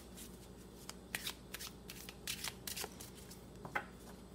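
A deck of Petit Lenormand oracle cards, Les Rêves Enchantés, is shuffled by hand, giving soft papery riffles and flicks in irregular bursts, close by and quiet against a faint room hum.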